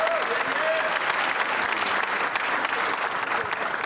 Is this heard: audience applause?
yes